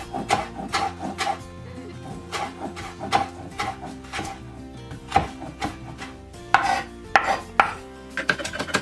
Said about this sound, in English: I'm chopping up some parsley, and then I'm gonna chop up also some cilantro, about the same amount